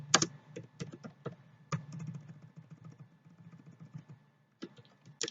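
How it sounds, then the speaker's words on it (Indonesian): Close, quiet clatter of keys on a computer keyboard, irregular bursts of taps with brief pauses, ending in a last flurry. "saya ketik"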